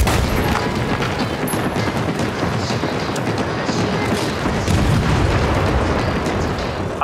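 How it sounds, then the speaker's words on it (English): A friendly airstrike pounds the area in World War 3 battle gameplay, a continuous roar of overlapping explosions and booming blasts mixed with crackling gunfire, loud and unbroken for the whole stretch. "Friendly airstrike incoming."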